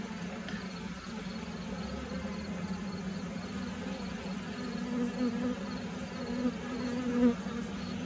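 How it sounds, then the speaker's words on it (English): Honey bees buzz close by at a horizontal hive in a dense, continuous hum. The drone swells slightly and has a few sharper passes near the end, and no one speaks over it. "Is there a bee stuck in there?"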